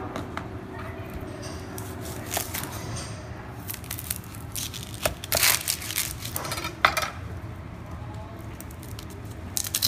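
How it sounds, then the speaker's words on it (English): An onion is chopped with a knife on a board, irregular crisp cuts and taps over a steady background hum of heating olive oil, close and moderately quiet. "we're gonna chop an onion"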